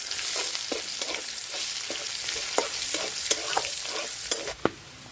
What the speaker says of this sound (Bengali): পেঁয়াজটা বাদামি করে ভাজে নিছি